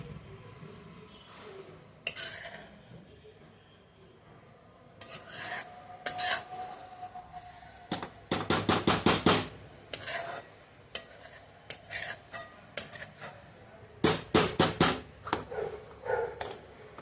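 A spoon scrapes and clinks against a pot while cooked vermicelli is mixed into sugared milk for kheer, giving close, rhythmic rasping strokes in short bursts with quieter pauses between.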